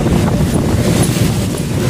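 Large ocean waves roll in at Muarareja beach with strong wind buffeting the microphone, a loud continuous roar of surf and gusts with no break throughout.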